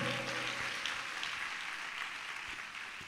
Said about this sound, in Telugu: సంతోషంగా గట్టి చప్పట్లు కొట్టండి.